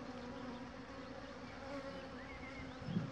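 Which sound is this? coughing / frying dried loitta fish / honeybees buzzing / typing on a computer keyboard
honeybees buzzing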